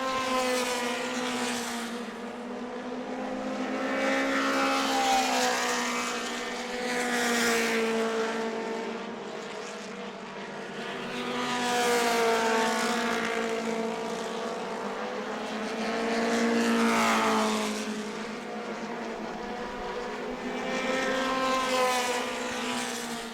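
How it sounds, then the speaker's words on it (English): Race cars in the advanced 4-cylinder division lap New Smyrna Speedway, their engines swelling and fading in repeated rhythmic waves as the pack passes, loud and continuous with no talk. "Top 2 separating now from the Jeff Firestone number 32"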